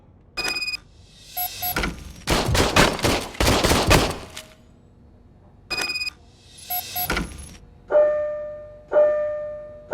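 Old service pistol fired in RoboCop: Rogue City, a handful of loud, close sharp shots and a burst of rapid fire mixed with mechanical clicks and ringing game tones, no talk.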